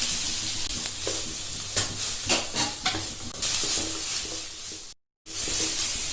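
Onions sauté in a pan for a spicy masala pasta, with a steady hiss and sizzle broken by repeated stirring scrapes, then a brief silent gap before the frying resumes.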